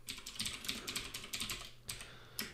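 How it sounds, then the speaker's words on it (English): Someone types quickly on a computer keyboard, a close, brisk run of clicking keystrokes with a brief pause, and no voice over it. "I'm going to continue typing by pressing space."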